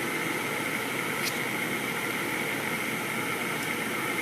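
Draft inducer motor on a Rheem Imperial 80 plus gas furnace, running as a faint, steady whirring hum with an even airy hiss throughout and no change in pitch.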